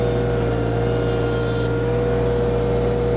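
A VMENG 25HP mulcher engine running with its drive engaged, a loud steady droning roar with strong constant hum, close and unbroken throughout.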